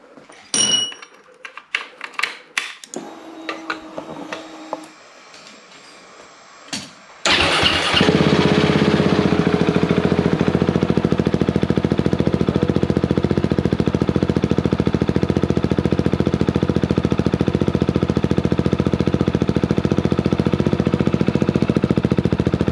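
An adventure motorcycle fitted with a newly installed exhaust fires up after a few clicks and mechanical clatter, then settles into a loud, steady, close idle that holds unbroken to the end.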